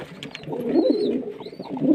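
Pigeons coo in soft, repeated throaty rolls at close range, their low murmuring steady throughout amid faint higher bird sounds, kept in a rooftop loft in hot summer weather.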